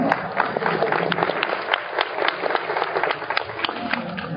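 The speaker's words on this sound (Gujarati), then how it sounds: "મને લાગે તાળી પાડી છે" An audience at a devotional gathering claps steadily throughout, a dense crowd of hands with sharp individual claps standing out against continuous murmur.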